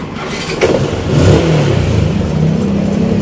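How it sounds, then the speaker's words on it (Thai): A Spark 135i engine with a 57 mm big-bore cylinder and stock exhaust revs up and holds a steady, rumbling drone, loud and close, with no talking. "เครื่องยนต์ก็ตอนนี้ก็โอเคแล้วครับ เงียบกริบนะครับฟังเสียงดูครับ"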